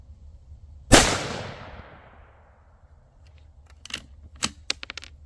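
A single loud rifle shot from a Savage B-Mag fitted with a Boyd's At-One stock rings out near the start, its report decaying over a couple of seconds, followed by a few faint clicks.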